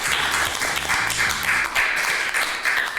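A small group at an informal talk-show hangout claps for a sales team. Steady, fairly close applause continues throughout, over a faint low background hum.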